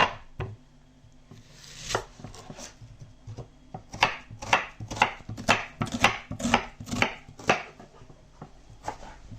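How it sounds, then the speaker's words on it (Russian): Onion cut with a knife on a board for a meat-and-potato pastry filling: a burst of firm, close chops in a quick irregular rhythm, preceded by a few scattered knocks. "Режем лучок."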